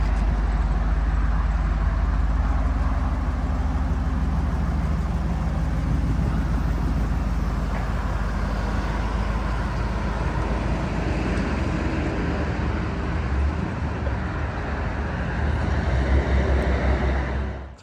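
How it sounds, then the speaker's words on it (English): A yellow 1965 Ford Thunderbird convertible with its top up cruises down a freeway, producing a steady, loud interior roar of road and wind noise with a deep low rumble throughout, no one talking. "We put the top up so we could take it for a test drive down the freeway"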